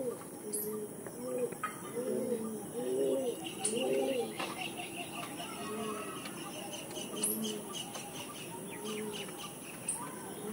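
Soft, low coos of Andhra pigeons repeat in short rounded phrases against a steady background hum, with a few faint high chirps mixed in.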